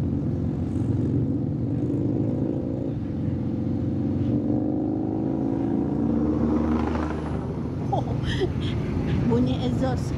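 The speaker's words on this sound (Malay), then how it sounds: "Bunyi exhaust Semua lori exhaust, tu lori lagi kuat." A group of Harley motorcycles rides alongside lorries on a road in Thailand, with a continuous low rumbling exhaust drone throughout and a voice talking over it.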